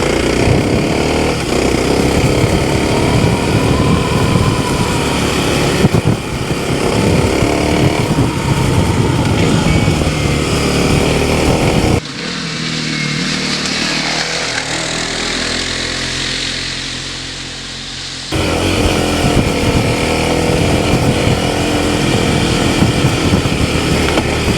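A 2026 Kawasaki KLX300 dual-sport dirt bike fitted with a Race Tech 6.4 kg spring rides through woods, its engine loud, close and continuous, revving up and down with a quieter, duller stretch in the middle.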